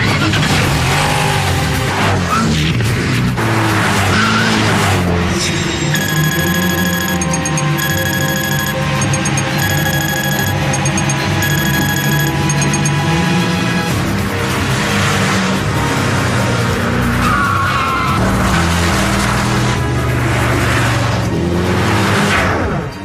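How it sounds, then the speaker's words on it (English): A Gumpert Apollo, a hand-built two-seater mid-engine German supercar, roars loudly as it drives hard, engine note rising and falling with sustained tire squeal and skidding over a long continuous stretch. "A hand-built, two-seater, mid-engine German supercar."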